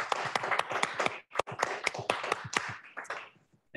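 Applause for a keynote speaker at a spectrum-sharing conference: a room of hands clapping in distinct, fairly close bursts, brisk at first, briefly breaking off near the middle, then resuming and thinning out toward the end.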